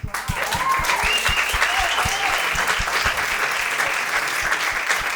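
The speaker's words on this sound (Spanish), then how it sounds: "Un aplauso para ella." A studio audience breaks into loud applause that starts at once and stays dense and even, with a few sharper claps and some faint whoops over the top.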